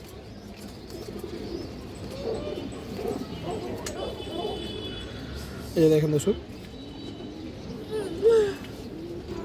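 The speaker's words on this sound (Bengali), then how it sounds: "খুবই সুন্দর একটা সিলভার মাদি কবুতর দর্শক" A silver female pigeon coos in short low bursts near the microphone, while someone talks over much of it and louder flutters or handling noises break in.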